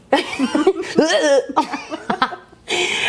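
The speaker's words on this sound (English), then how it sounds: "it sounds like a cough and a sneeze." Several sharp, explosive coughing bursts come in quick succession, one with a sneeze-like sharpness, close and loud.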